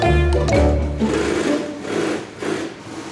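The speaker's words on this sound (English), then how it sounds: "that's the sound of lots of sewing machines all working at the same time" Many sewing machines run at once in the sewing room of a rucksack factory, a loud overlapping whirring drone with a burst of stitching chatter at first, then rising and falling pulses of motor noise.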